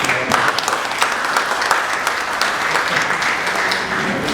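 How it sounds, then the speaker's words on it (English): An audience at a policy validation workshop gives a sustained round of applause, dense and lively claps filling the room at close range. "Can you give me a round of applause?"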